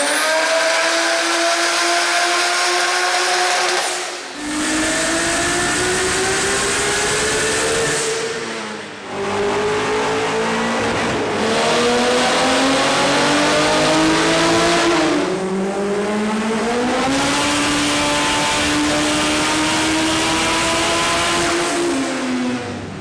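A powerful car engine revs hard and repeatedly on a dyno, rising and falling in pitch with brief drops between pulls, loud and close inside an enclosed dyno cell.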